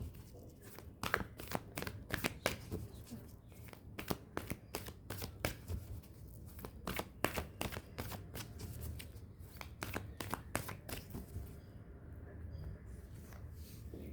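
Tarot cards being shuffled by hand, a steady run of crisp riffling snaps and flutters for the whole stretch, close and fairly loud, with a faint low murmur underneath.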